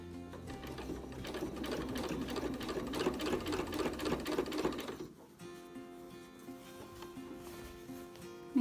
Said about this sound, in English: And then we're just going to sew continuously around the entire thing.